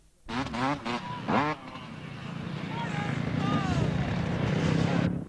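Enduro motorcycles and quads at a 1999 winter enduro event: short throttle blips at first, then a steady, building engine drone as the machines ride past at speed.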